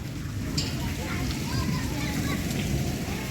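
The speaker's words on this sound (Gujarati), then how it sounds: "હે જો બહુ જ વરસાદ આવવા માંડ્યો છે" Heavy monsoon rain falling outdoors, a dense continuous wash of noise with children and other voices talking and calling over it throughout.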